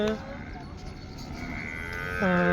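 Loud, drawn-out buffalo lowing, two deep calls at the start and end, over a busy murmur of livestock and people at an outdoor cattle market in Pusad.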